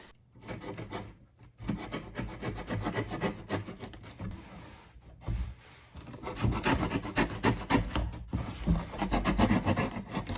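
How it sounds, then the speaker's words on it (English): A box cutter slices down the sides of a cardboard shipping box for a wreath, close, rasping scraping strokes in irregular bursts with brief pauses between cuts. "So I'm going to cut down each of the sides by 1 inch with my box cutter."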